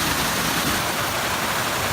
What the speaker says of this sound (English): Wow, this is a real creek.